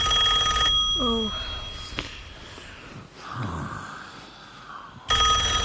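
A telephone bell rings in a 1970s BBC sci-fi radio drama, clear repeated trills standing out before a quiet stretch, with faint breaths and murmurs in the background.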